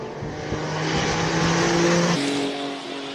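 A Porsche 911 Turbo 996 at a hill climb, its engine screaming hard up through the gears, with a sharp shift midway and sustained loud revving close by.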